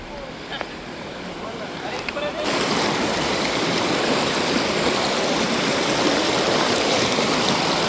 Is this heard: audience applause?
no